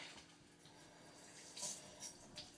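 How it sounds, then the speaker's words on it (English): Tap water runs steadily into a sink while hands are washed in a kitchen during chili Frito pie prep, a soft continuous splash with a few brief brighter spatters, fairly quiet and with no talking. "come on over here and get my hands washed here"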